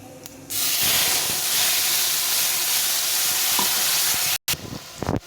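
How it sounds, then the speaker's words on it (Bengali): Cumin and masala spice tempering frying in a hot pan, a loud steady sizzle and hiss with stirring scrapes throughout, briefly cut off near the end before resuming. "ফোড়নটাকে একটু ভেজে নিই, একদম পোড়ানো যাবে না"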